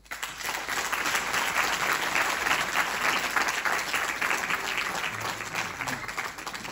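Loud, sustained audience applause at a fado festival night welcoming a singer, a dense wash of clapping that holds steady throughout.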